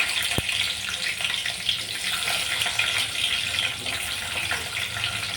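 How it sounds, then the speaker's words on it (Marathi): Green chillies sizzle in hot oil in a pan, being fried for thecha for Pune-style matki bhel; a loud, dense, continuous hiss with small crackles runs throughout and no one speaks. "तेल तापलेलं आहे. आपण ह्यावर मिरच्या घालून घेऊया."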